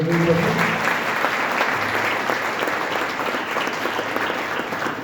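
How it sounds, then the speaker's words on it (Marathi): A crowd at Sajjangad breaks into sustained, dense applause, loud and even throughout, with faint voices briefly audible at the start. "जोरदार टाळ्या वाजवूया."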